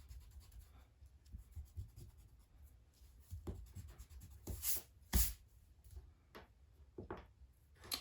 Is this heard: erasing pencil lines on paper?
yes